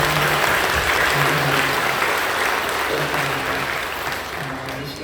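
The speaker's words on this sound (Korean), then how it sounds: "박수로 격려해 주시죠" A church congregation applauds together in a worship hall, a dense, steady roar of clapping from many hands that carries on for several seconds and slowly tapers, with a low sustained hum beneath it.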